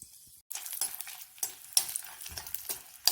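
Dried red chillies hit hot oil in a pan while making pirandai chutney, giving a bright crackling sizzle after a short silence, punctuated by stirring scrapes and clinks of a spoon against the pan.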